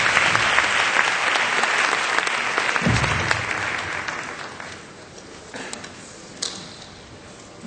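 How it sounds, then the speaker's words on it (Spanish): A room of attendees at a marketing event gives strong, dense applause that gradually thins and fades away over several seconds, leaving a few final claps and faint shuffling. "a todos ustedes les pido un fuerte aplauso para todos ellos"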